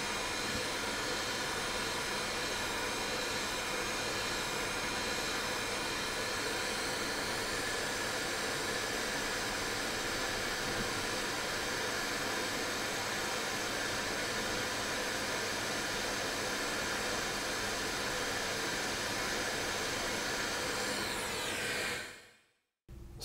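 Hot air tool blowing steadily over the circuit board of a GTX 570 graphics card, a continuous close-up broadband hiss and whine that runs unchanged for about twenty seconds before cutting off abruptly, with no talking.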